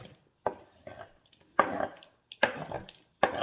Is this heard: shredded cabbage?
yes